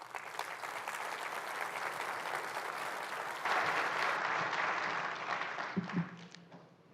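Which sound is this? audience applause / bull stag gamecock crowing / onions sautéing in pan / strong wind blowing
audience applause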